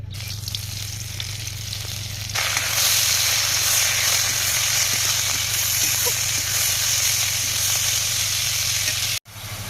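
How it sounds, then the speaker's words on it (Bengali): Red amaranth greens frying in a pan, with a low hiss that breaks into a loud, bright, steady sizzle partway through, close up with a hum underneath, then a sudden brief cut near the end. "তো এখন লাল শাকটাও জলদি ভেজে নেবো"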